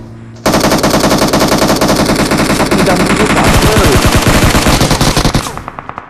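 Rapid automatic gunfire rattles loud and nearly nonstop through a video game shootout, a dense burst of close shots that tapers off into a few scattered rounds at the end.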